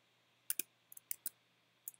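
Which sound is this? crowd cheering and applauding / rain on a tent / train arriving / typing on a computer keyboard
typing on a computer keyboard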